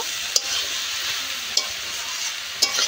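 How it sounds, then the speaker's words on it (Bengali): Banana stem sautés with mustard paste and green chilli in a pan, a soft continuous sizzle broken by three sharp spatula scrapes against the metal. "আবার একটু এই সর্ষে বাটা দিয়ে কষে নেব।"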